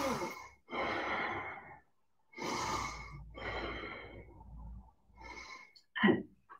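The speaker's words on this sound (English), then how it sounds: "A couple of deep breaths in." Several deep yoga breaths, drawn in and let out slowly and close by in long separated pulls, ending with a sharper short exhale.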